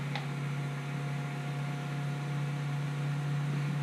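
An alternator converted into an electric motor runs steadily under load testing in a shed, giving off a constant low electrical hum with a faint whine above it, unbroken and even throughout.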